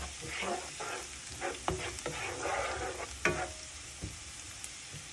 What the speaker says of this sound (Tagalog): pa-brown lang niya konti ang ating bawang. Tapos mamaya ang ating sibuyas.